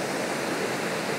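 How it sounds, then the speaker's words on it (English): Water flowing over rocks in a Tasmanian landscape at evening, a steady broadband rushing wash with no breaks, fairly loud and close, like a small cascade or stream. "some nice sort of detailed shots of the water flowing over the rocks"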